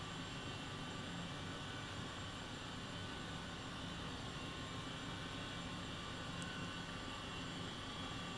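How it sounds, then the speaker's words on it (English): A helicopter in Microsoft Flight Simulator 2020 flies low and fast over London, giving a steady, loud broadband rotor and engine roar that holds without a break throughout, with no talking. "Low and fast in these helicopters just for the fun."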